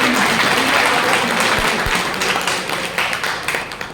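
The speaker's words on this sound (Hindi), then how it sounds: "एक बार जोरदार तालियों से।" Loud, dense applause from an audience at a community organisation gathering fills the clip and gradually thins toward the end.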